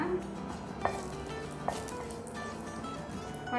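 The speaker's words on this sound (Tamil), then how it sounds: "இப்போ எண்ணெய் சூடாயிடுச்சு இதில் நான் வச்சுருக்க இலையும் பட்டையும் சேர்த்துக்கிறேன்" Bay leaf and cinnamon stick sizzling in hot oil at the start of a Chettinad vegetable pirattal: a steady, fairly quiet frying hiss with two brief utensil taps.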